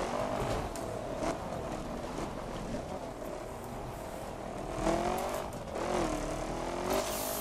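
A racing car in The Crew accelerates hard, its engine whining and revving in rising sweeps, dipping and climbing again as gears change, steady and close throughout.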